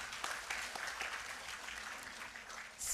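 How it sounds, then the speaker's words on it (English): An audience at a Spinal Cord Injury Day sports and cultural program applauds for Dr. Suneet Marwa. Continuous moderate clapping with a few sharper individual claps runs throughout, heard from some distance. "a big and huge round of applause for Dr. Suneet Marwa"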